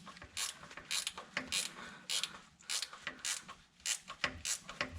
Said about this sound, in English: I'm gonna try putting it in a socket and on an extension and reach back in there